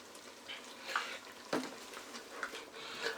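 Creamy chicken and chorizo pasta sauce simmers in a pan, a quiet bubbling sizzle broken by a few sharper stirring scrapes and pops.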